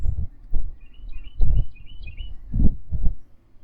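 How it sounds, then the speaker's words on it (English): Birds chirp in short, light calls heard from a front porch, scattered across a few seconds over low rumbling bursts of background noise, no one speaking. "Hear the birds singing."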